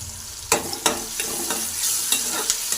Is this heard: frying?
yes